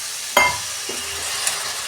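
Spices with turmeric and a splash of water frying in a pan for a home recipe, a sharp clink of a stirring spoon followed by a soft continuous sizzle with a few light scrapes.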